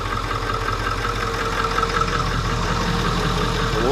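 A car engine idles steadily while warming up after blowing blue smoke from the exhaust, a continuous even rumble at close range with a faint rhythmic pulse, alone without talk.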